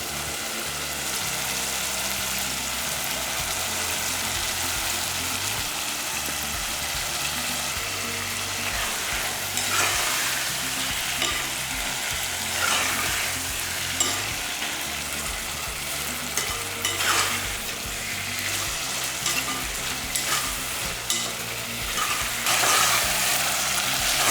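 Tomatoes and onions sauté in a pan as black chickpeas are tipped in, giving a steady loud sizzle with scraping stirs and brief clatter, continuous throughout with no voice.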